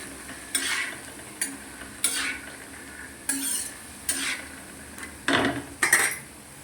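Chickpeas and onion roasting in oil are stirred in a pan, making a faint sizzle broken by about eight separate scraping strokes and clinks of the spoon against metal, with no talking.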